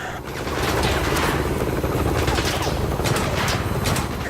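Gunfire and mechanical clatter in the video game 007 Blood Stone on PS3, a dense, loud, continuous rattle of shots lasting about four seconds with no pauses.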